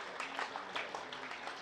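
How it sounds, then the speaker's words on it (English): Scattered applause ripples around a cricket ground during a county match between Essex and Kent, a steady patter of distant claps rising and falling in small bursts, with no voices over it. "there were claps around the ground"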